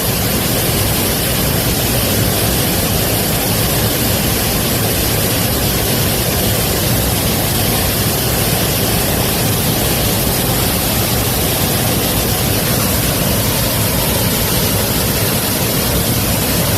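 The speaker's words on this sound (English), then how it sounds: "I do love the sound of a waterfall." A waterfall in Los Gatos county park roars as a steady, loud, broadband rush that stays constant and dense throughout, with no voices over it.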